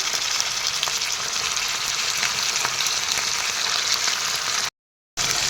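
Chicken pieces fry with onions in a hot pan for a simple chicken curry, giving a steady, close crackling sizzle that carries on evenly with no talk until a brief silent gap near the end.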